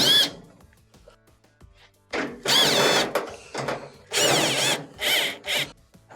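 A power drill backs out screws from the top panel of a GE dryer, in several whirring bursts of rising and falling pitch separated by short pauses, close and loud.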